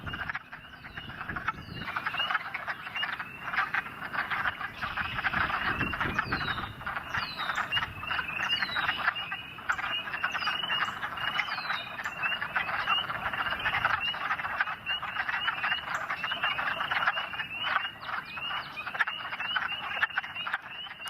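Wood frogs croak in a swamp, a dense and continuous chorus of overlapping clucking calls at moderate distance, with no voices over it.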